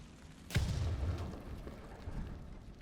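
An artillery strike lands in the tank game War Thunder: one sharp, heavy boom followed by a rumbling decay and a fainter second thump, heard at mid distance over low ambient noise.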